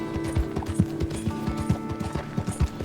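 Horse hooves clip-clopping at a steady walking rhythm in Red Dead Redemption 2, close and fairly loud, with a few soft mechanical creaks behind them and no talking.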